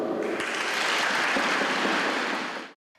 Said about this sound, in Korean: 힘찬 응원의 박수를 부탁드립니다.